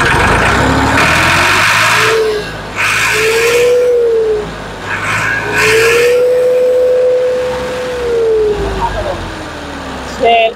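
A tractor engine revved hard at full throttle, a loud sustained mechanical roar whose pitch rises and falls over several seconds, with someone talking continuously over it.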